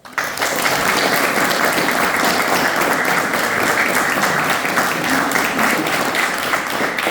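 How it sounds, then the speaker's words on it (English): An audience at an evening music gig in a pub gives the performer another round of applause, loud dense clapping that starts abruptly and holds steady for several seconds with a few scattered cheers mixed in. "I think we give this man another round of applause"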